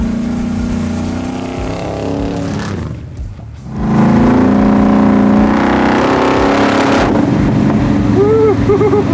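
A 712 ci all-motor 1955 Chevy engine roars loudly as it pulls hard, briefly dipping before surging again, with heavy wind rush throughout and voices faintly under the noise.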